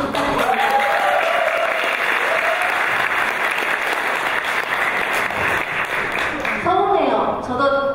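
An audience at an indoor talk on the Sewol ferry disaster applauds to welcome a pastor from a disability rights group, sustained clapping from many people with a voice speaking over it at the start and end.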